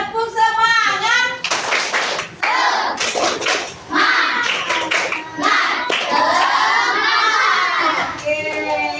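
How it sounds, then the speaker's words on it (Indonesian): A class of fifth-grade children performs a rhythmic spirit clap in a classroom, bursts of patterned hand claps mixed with loud young voices chanting and shouting along. "Tepuk semangat."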